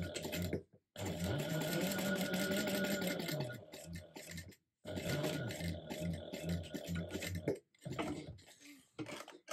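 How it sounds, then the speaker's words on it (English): Sewing machine top stitching a fabric clutch: close, steady mechanical whirring in several runs, with short pauses between bursts of stitching. "you will top stitch above the second slit as well as below the first one"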